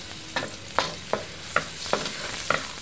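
Sliced pechay and tomato going into a pan of hot oil left over from frying milkfish, with a steady close sizzle and sharp stirring scrapes at a regular pace and no talk.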